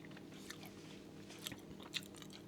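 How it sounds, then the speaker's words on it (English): Crunchy sweetened beer nuts are bitten and chewed up close, giving a few sharp crunches over quiet mouth noise. "Nice and crunchy."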